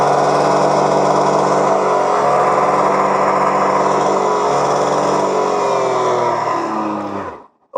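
A 2025 Suzuki Access 125 scooter engine runs at a steady raised throttle, a close, even buzzing drone that holds for several seconds before cutting off abruptly near the end.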